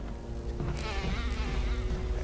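Droning insect buzz from a swarm of bees in the video game Resident Evil Remake, a steady close hum running throughout with slight wavering, no talk over it.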